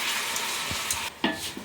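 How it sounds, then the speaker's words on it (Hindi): Dal, rice and vegetables fry in a pan with a soft, steady sizzle, broken by a few light scrapes and knocks of stirring, close and quiet. "लगातार थोड़ा थोड़ा बीच में चलाते हुए इसे भून लेते हैं 2 से 3 मिनट"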